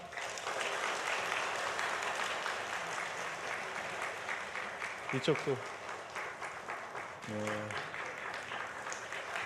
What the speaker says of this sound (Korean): 우리 축복의 박수 부탁드리겠습니다